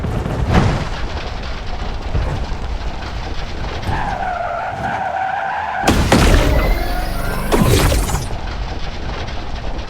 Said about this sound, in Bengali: আমাদের এই গাড়িটা বারবার অ্যাক্সিডেন্ট করতেছে।